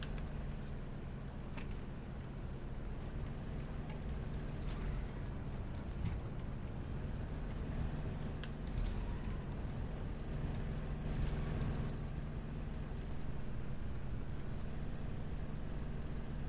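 A P-43 fighter's piston engine drones steadily at full throttle in War Thunder, a constant loud rumbling roar with wind-like rushing noise and no pauses.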